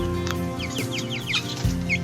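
A chicken clucking in quick, short bursts, close by, with a few brief chirpy notes and no voices.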